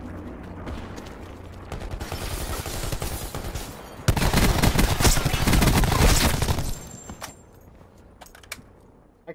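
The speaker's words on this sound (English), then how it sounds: "Oh, someone's shooting at me." Call of Duty Blackout gunfire crackles in rapid bursts, swelling into a loud, dense volley in the middle before easing off into quieter game sounds.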